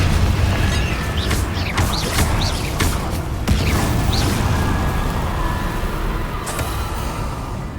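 Repeated Confringo blasting-spell explosions in the game Hogwarts Legacy, several booming bursts with crashing debris layered over a steady, loud game soundscape, no voices.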